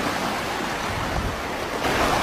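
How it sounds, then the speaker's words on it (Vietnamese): Sea waves wash onto a beach, a continuous broad roar of surf mixed with wind buffeting the microphone, swelling louder near the end as a wave breaks close by. "Những con sóng cồn cào nó đang vẫy gọi chúng ta đấy"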